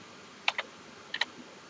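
A computer keyboard gives two quick pairs of crisp key clicks, each pair a fraction of a second apart, over a quiet room background.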